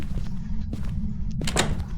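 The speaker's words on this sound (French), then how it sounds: "C'est toi qui viens de fermer la porte?" A door closes in the ghost-hunting video game Phasmophobia: a couple of short muffled thuds and a brief bright clatter near the end, set over a steady low background rumble.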